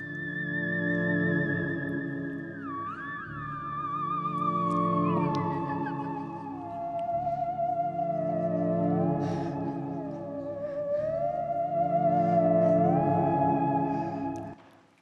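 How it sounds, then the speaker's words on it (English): Theremin music from an album: a wavering, sliding lead tone glides smoothly up and down in pitch with vibrato over a sustained, droning accompaniment, steady and moderately loud throughout. "had chosen to take an album of theremin music with him"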